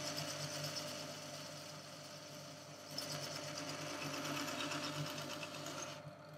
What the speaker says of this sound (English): we're on a slow speed, the slowest speed that the lathe will do